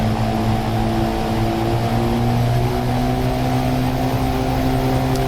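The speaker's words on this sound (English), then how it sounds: "now we're going to add throttle and get in the air" Single aircraft engine held at takeoff throttle during the run-up to rotation, a loud, steady drone with strong even harmonics that slowly rise in pitch over several seconds, continuous and close with no talk over it.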